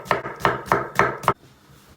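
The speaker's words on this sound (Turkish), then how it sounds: "Önce işimize soğanı doğrayarak başlıyoruz." A knife chops onion on a board in five steady, evenly spaced strikes, close and crisp, then stops.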